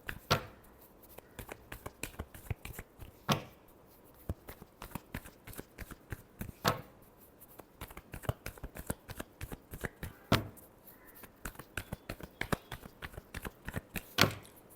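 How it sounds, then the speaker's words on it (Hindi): A deck of tarot cards is shuffled over and over in quick, crisp bursts of riffling and slapping, close and clear with no talk. "Last shuffle."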